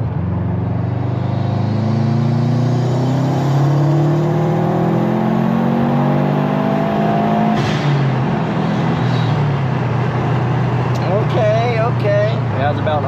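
A turbocharged Chevy Camaro accelerates hard on a bypass, with a loud, sustained engine roar climbing through the gears up close; a person talks over it near the end.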